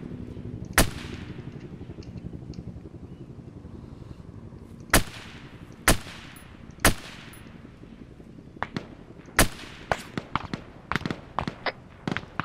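Gunfire in the military sim Arma 3: sharp, loud single shots spaced irregularly, then a denser run of quicker cracks and bursts toward the end over a low background rumble.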